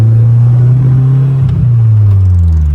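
A car engine revs up under light throttle on an open road, a loud, close, steady engine drone whose pitch rises and then dips, with no talking.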